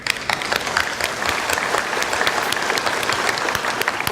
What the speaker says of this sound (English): Please give a big applause to welcome Dr.